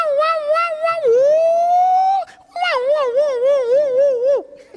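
A voice imitates a presidential motorcade siren, wailing with rising and warbling pitch sweeps for several seconds, loud and close, briefly breaking off midway before resuming with a fast oscillating wail.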